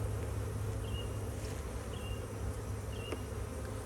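Wild honeybees hum in a dense, steady drone around an apiary hive, a continuous buzzing swarm close by with a few brief higher insect whines passing over it.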